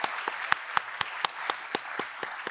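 Scattered clapping from a small lecture audience thanking Professor Meldal at the 15th HOPE Meeting, with distinct, fairly even claps at about four to five per second, moderately quiet and slightly roomy, no talk.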